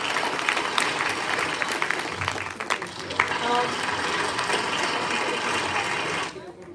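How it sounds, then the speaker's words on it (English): Audience applause filling an auditorium after a round of thanks for Riddle, Makers Mela and the entrepreneurs at a maker event, dense steady clapping that cuts off sharply near the end. "So a huge round of applause to Riddle, Makers Mela, and all the entrepreneurs and all of you sitting out here."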